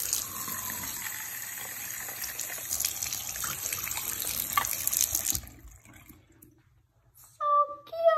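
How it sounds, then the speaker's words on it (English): A toy rinsed under a running tap at a sink, with a steady water stream for about five seconds before it stops, followed by brief voices talking. "Let's rinse it out real quick."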